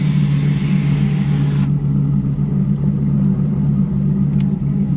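A Dodge SRT-10 pickup truck's V10 Viper engine idles with a deep, steady low rumble, loud and close from inside the cab, with no voices.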